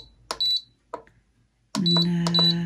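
Electric cooker control panel beeping as its buttons are pressed, a few short high electronic beeps, a sequence of clipped double tones and then a longer beep over a low hum, close and clear.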